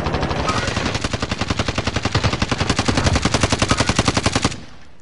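A rapid, sustained burst of automatic gunfire in Call of Duty Warzone, loud and close, with evenly spaced shots rattling for several seconds before stopping abruptly.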